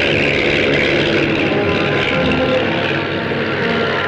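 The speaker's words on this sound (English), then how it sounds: "A newcomer in the Beagle range takes off." A Beagle light aircraft takes off with a steady, loud propeller-engine drone holding throughout at close range, with no voices.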